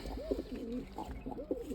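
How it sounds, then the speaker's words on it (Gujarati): Pigeons in their coop coo close by, soft low throaty rolling calls repeating in a steady pattern, fairly quiet and alone. "તો તમે જોઈ શકો છો ફ્રેન્ડ કે આ છે આપણા કબૂતર."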